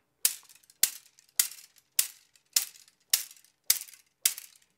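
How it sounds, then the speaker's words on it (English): Barbecue skewer sticks with tape wrapped around one end, struck together as percussion: eight sharp, bright clicks at an even pace of about two per second, each trailing off in a short rattle. No one speaks. "So you just get some barbecue skewers, put some tape around one end."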